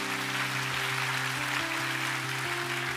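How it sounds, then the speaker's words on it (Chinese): A church congregation at a worship service applauds in a steady, even wash of clapping. Sustained keyboard tones hold underneath, shifting pitch now and then. "我们再一次把荣耀掌声归给我们的神"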